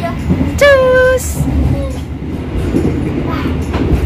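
Passenger train running between Cepu and Surabaya, a steady rumbling rail noise throughout with a brief tonal whine or horn-like tone early on, under occasional nearby talk.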